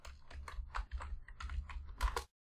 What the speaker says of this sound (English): To do that, just type Pyinstaller